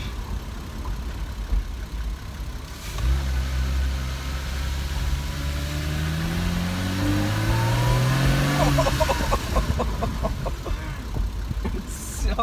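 Porsche Cayman engine, cover removed, revving hard while driving: a loud, close, rising and falling engine roar with climbing pitch sweeps, a person exclaiming over it.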